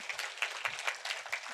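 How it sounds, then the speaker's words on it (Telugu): A small audience claps at a spoken talk, a quiet, fairly sparse patter of hands with individual claps distinguishable, heard faintly and steadily for a short burst. "ఒకసారి గట్టిగా చప్పట్లు కొడదాం."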